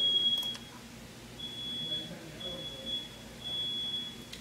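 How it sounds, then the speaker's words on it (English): A fire alarm beeps in a high, steady electronic tone, coming in several intermittent bursts at moderate distance over a quiet indoor background with faint room noise. "I think the fire alarm's going off"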